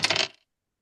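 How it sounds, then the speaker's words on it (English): Dice tumbling and clattering during a game of Yahtzee, a short burst of rattling that stops abruptly after about a third of a second, then silence. "As you may know, you can roll the dice 3 times"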